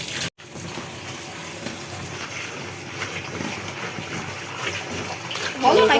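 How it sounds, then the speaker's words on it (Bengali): Water swishing and splashing as leafy greens are washed by hand in a kitchen, a continuous close sloshing with someone talking over it. "শাকটি ভালো করে কষলিয়ে কষলিয়ে ধুয়ে নিচ্ছি"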